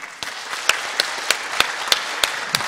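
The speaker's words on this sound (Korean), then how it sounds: "은퇴 장로님께서 인사하실 때 큰 박수로 마음을 표해 주시기 바랍니다" A church congregation honouring a retiring elder during Sunday worship claps loudly and steadily, with close, rhythmic individual claps standing out over the room's general applause.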